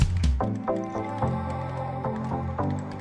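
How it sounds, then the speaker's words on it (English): Water poured onto the soil of a potted moon cactus rootstock drains and drips through fast-draining soil and out the bottom hole, a close series of wet squishing splashes. "I'm watering now. Look at the bottom. The water drains fast down the hole."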